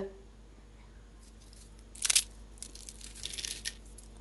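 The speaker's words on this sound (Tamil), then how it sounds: "இப்போ பாருங்கள் எவ்வளோ சூப்பரான அப்பளம் ரெடி ஆகிடுது நமக்கே ரொம்ப திருப்தியாக இருக்கும் இப்போ பாருங்கள் அதோட சவுண்டு கேளுங்க" A crispy homemade muru muru appalam (papad) is broken up close by in a few sharp crunching bursts, one loud snap followed by a cluster of smaller crackles, all against a quiet background.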